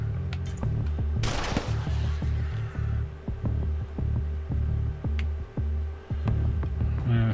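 Gunfire in Breach & Clear: Deadline: a loud burst of shots early on, then sparse, irregular shots over a steady low throbbing hum and a thumping rhythmic music bed.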